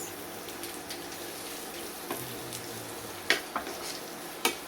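Onions fry quietly in a pan for chicken shawarma, a low steady sizzle with occasional soft clicks and taps from stirring.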